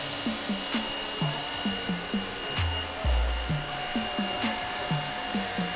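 Steady airy roar of a heat gun warming stretchy vinyl wrap film, running close and continuous with faint rhythmic ticks and a brief low thump partway through, no voices.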